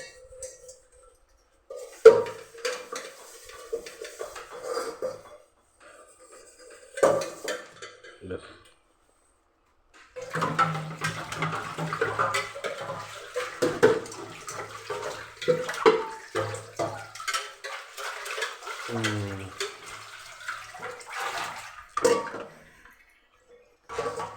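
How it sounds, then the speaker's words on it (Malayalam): Dishes clink and clatter in a sink, with bursts of running tap water and scrubbing; quiet pauses separate the busier stretches of washing. "പാത്രമെല്ലാം കഴുകി"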